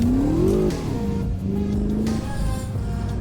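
Simulated BMW M5 F10 V8 engine in the Assetto Corsa racing game, revving up and down in smooth sweeping pitch changes, loud and close, with no voices over it.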